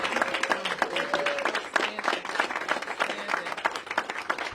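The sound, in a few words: audience applause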